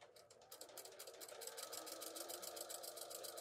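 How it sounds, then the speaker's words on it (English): Sewing machine stitching through a layered fabric tutu with a fast, steady rapid rhythm, faint and close, with no talking. "Now we're going to sew a half inch from the top all the way around."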